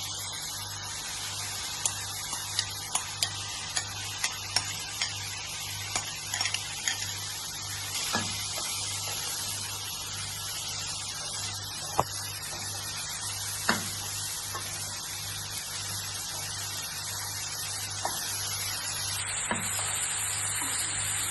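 Dried shrimp sautéing in masala in a pan gives a continuous soft sizzle with a steady low hum beneath it, while occasional light clinks and ticks from a utensil are scattered over roughly twenty seconds.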